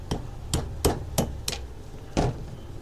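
Six light, sharp hammer taps strike a part of a Star 9mm pistol during disassembly, spaced roughly evenly and close up, with no talking.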